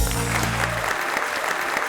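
A studio audience on a Pakistani TV talk show claps to welcome cricketer host Ramiz Raja, a low musical sting fading out in the first second as a steady, close patter of many hands takes over.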